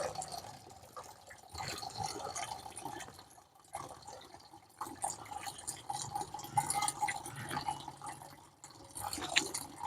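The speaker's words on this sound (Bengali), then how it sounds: "কল থেকে জল নেবো। তো জল ভরছি এখন।" Tap water runs and splashes into a container being filled for pet pigeons, a steady close trickle with brief pauses and small dripping spatters.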